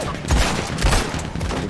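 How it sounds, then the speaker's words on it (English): Maxim machine guns firing in the Red Dead Online video game, a dense crackling fusillade of rapid shots with a few heavier thumps, fairly close and continuous through the short stretch. "There's like a ton of Maxim guns over here right now."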